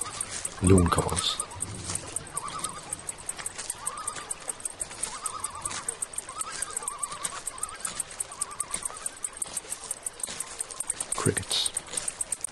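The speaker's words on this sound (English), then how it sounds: "Loon calls." A loon gives repeated wavering, tremolo-like calls, several in a row at moderate distance, over a faint background of chirping insects and a few clicks.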